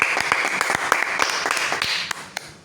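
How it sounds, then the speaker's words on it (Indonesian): A classroom of students claps for a classmate in a short burst of scattered, close hand claps that trails off after a couple of seconds. "Tepuk tangan dulu."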